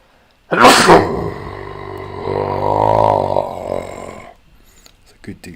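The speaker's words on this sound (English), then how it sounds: "It's a good deep sneeze." A single deep, loud sneeze bursts out close up, then trails into a long drawn-out voiced groan before fading, followed by faint noises.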